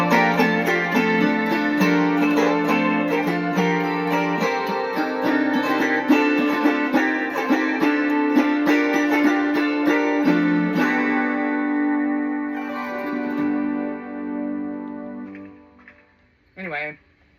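Diatonic autoharp strummed through an amplifier with heavy reverb, loud sustained chords ringing and layering for about twelve seconds before fading out, with a brief final strum near the end.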